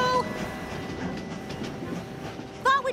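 A train rumbles steadily into a station in an animated show, with continuous low rolling noise and a brief whistle-like tone near the end, and no talking.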